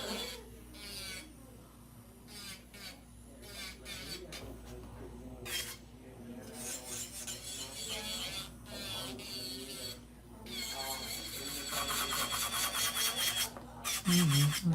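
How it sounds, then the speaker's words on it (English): A 100/180 grit buffing block rasps against nails during an acrylic powder refill in a nail salon, with repeated scratchy strokes in uneven bursts that grow louder toward the end. "100 by 180 is a good buffing block"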